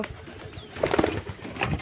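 Pigeon cooing softly in a small loft during cold weather, a few short low coos close by, with light rustling and no voices.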